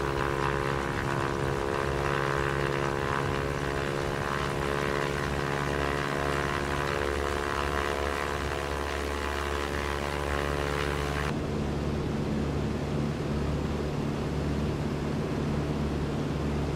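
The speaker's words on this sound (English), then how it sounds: "by pulling lightly on the stick I take the plane off the ground" Steady propeller airplane engine drone during takeoff roll and liftoff at about 60 knots, a constant loud buzzing hum with a sharp shift in tone partway through as the plane leaves the ground.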